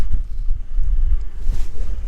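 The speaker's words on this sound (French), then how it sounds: "Il y a du vent" Strong wind gusts buffet the microphone outdoors on a farm beside a tarp-covered silo, a continuous low rumbling roar with no voices.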